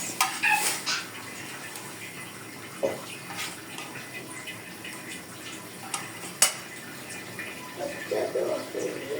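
Fish pieces go into a pot of curry one by one in a home kitchen, with wet splashes and clinks of utensils against the pot over low background noise.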